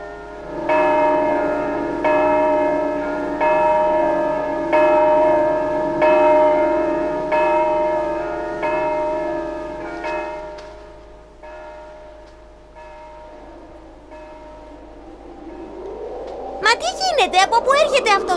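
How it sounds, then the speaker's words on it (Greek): Church bells ring in a steady sequence of resonant, ringing strikes that gradually fade, followed by gusts of wind and brief voices near the end. "Οι καμπάνες."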